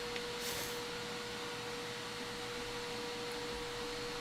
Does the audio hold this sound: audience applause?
no